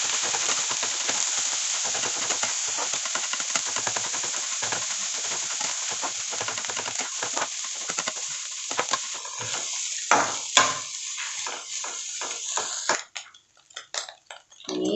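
Chicken fried rice with capsicum stir-fried in a hot pan, a loud continuous sizzle and steamy hiss with repeated scraping stir strokes throughout, briefly dropping near the end before resuming.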